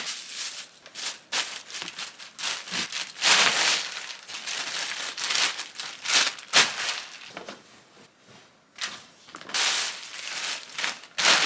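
Plastic bags being crinkled and stuffed into one plastic bag: continuous close, loud rustling and crackling in uneven bursts, with a brief lull before the crumpling resumes.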